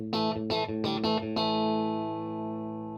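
A few sharp electric guitar chords through a Lazy J amplifier strummed in quick succession, then one ringing chord left to sustain and slowly fade, clean with a warm midrange tone.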